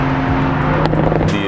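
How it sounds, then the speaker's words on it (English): 2020 BMW Z4 roadster exhaust note on a misty day, a loud steady engine drone heard close up from the moving car for a brief moment, without talk. "The exhaust note on this is incredible."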